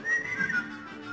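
A man whistles a short, wavering melody from a Mexican song. The whistle comes through alone, close and clear, for about a second with no talking.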